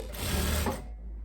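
A sewing machine runs a brief, steady burst of stitching on a wide seam in a viscose summer dress with elastic, close and fairly loud, with its whirring slowing and fading near the end.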